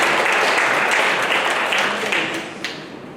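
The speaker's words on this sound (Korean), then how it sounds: "매주 애쓰는 우리 찬양대원들 위해서 우리 격려하는 마음으로 함께 박수하겠습니다." A church congregation applauds its choir during a Sunday worship service, a dense, loud burst of many hands clapping that fades out toward the end.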